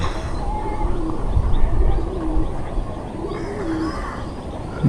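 A Pakistani teddy pigeon cooing up close, soft low rolling coos repeating over a dull background rumble.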